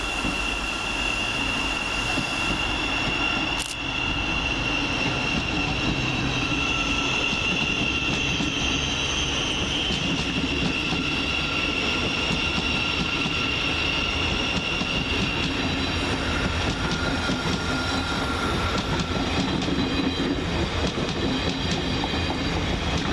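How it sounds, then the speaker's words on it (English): A Class 700 Thameslink electric train passes through Peterborough station, a sustained rumble of wheels on rail with a faint clickety-clack and a thin high squeal, a sharp click early on, steady throughout with no talk. "Quickly going in the opposite direction is 700-103, working the 1324 Gavia Thameslink service to Horsham via London St Pancras International."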